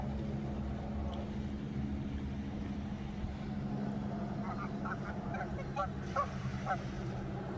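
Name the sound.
geese honking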